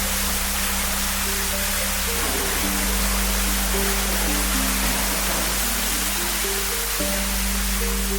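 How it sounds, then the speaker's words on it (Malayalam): A steady, dense roar of falling water fills the air at the Sandalwood Cave forest resort in Wayanad, where a waterfall spills near a room with a private pool. Close and unbroken throughout, with faint tonal chirps scattered above it. "അതോടൊപ്പം തന്നെ വെള്ളച്ചാട്ടം ഉണ്ടെന്നുള്ളതാണ്."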